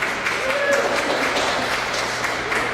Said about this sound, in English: Another round of applause for Wanda, please.